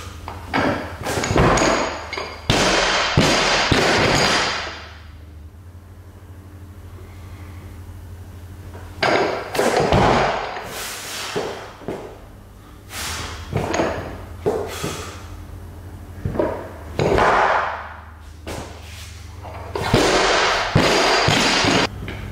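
Barbell thuds during weightlifting jerk attempts in a gym: sharp, loud impacts and clanks in scattered clusters with quieter gaps between, near and unaccompanied by talk.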